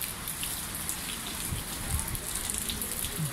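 Steady rain falls at a beach resort in Bibione, northern Italy, a constant wash of drops hitting surfaces with no breaks, fairly close and even in level throughout.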